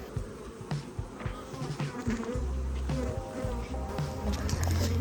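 Honeybees buzz around their hives, a steady close drone with individual insects passing near and away, and faint rustling underneath.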